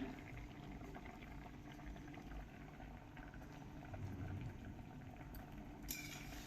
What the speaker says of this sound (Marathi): छान खळखळ उकळत्या पाण्यात शिजू द्यायचे